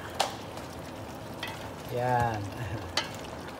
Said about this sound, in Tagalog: Pwede nang haluin kasi kumulo na siya.